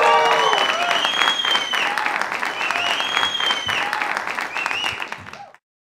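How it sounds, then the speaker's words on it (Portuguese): A stand-up comedy audience gives a welcoming round of applause for an older comedian, with dense, loud clapping mixed with a few cheers that stops abruptly near the end. "Receba com uma salva de palmas este comediante idoso da Comédia Mineira, João Basílio!"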